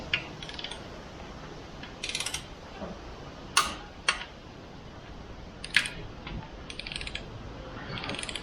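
A torque wrench tightens sump bolts on a Jaguar S-Type V8 engine, with a handful of separate close metallic ratchet clicks and clacks spread over quiet workshop background, without talk.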